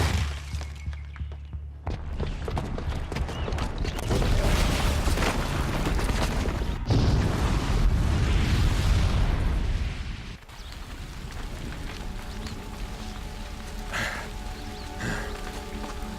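Booby-trapped bomb detonating in the video game Horizon Zero Dawn: a loud sustained explosive roar with crumbling and shattering debris for several seconds, then subsiding into a rumbling aftermath with scattered impacts.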